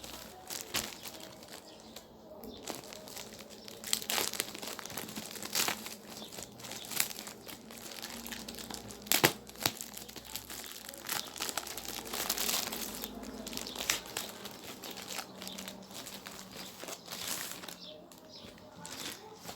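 Plastic wrapping on a shipping package crinkles and crackles steadily for about twenty seconds as the parcel is opened, with sharp rustling bursts throughout and a person talking at times.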